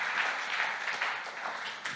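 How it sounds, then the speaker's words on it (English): An audience at a panel discussion claps for the panellists, giving a short burst of moderately quiet applause that swells and eases slightly over two seconds. "Big round of applause for our wonderful panellists again."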